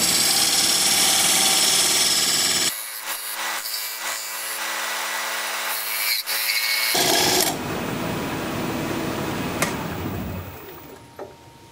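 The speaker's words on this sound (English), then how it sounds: "I'm just going to use this diamond point tool to straighten up the sides of the tenon" A diamond point tool cuts along the tenon of a burl wood piece spinning on a lathe, giving a steady loud scraping whir that drops to a lower hum partway through before rising again, with no talking.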